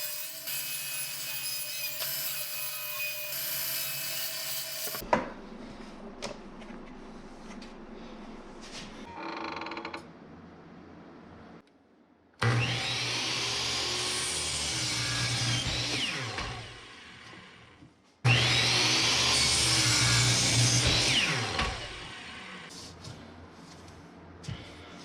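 Woodworking machines mill lumber posts and 2x4s in loud, steady bursts, with quieter shop handling sounds between cuts.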